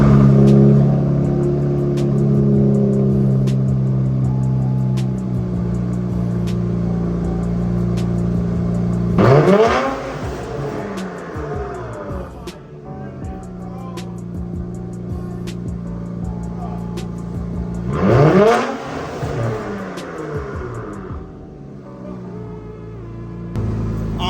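An Infiniti Q50/Q60 with AMS lower downpipes idles with a deep, steady drone, then is revved hard twice, each rev sweeping up loudly and falling back to idle, heard up close.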